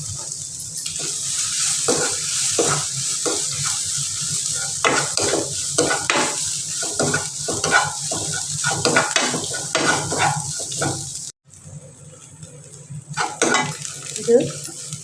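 Grated coconut frying with shrimp in a pan for a Kerala chammanthi, with steady close sizzling broken by repeated stirring scrapes and a brief silent gap before the frying resumes.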